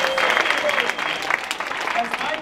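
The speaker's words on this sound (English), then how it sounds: "give yourselves a round of applause" Audience applause at a black tie show, a dense steady clatter of clapping from a crowd, fairly close and even throughout the short stretch.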